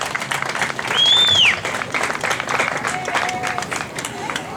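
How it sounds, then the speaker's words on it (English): A crowd claps in a steady wash of applause, swelling briefly and then continuing at an even level, with a whistle cutting through near the start. "So we can give them just a round of applause"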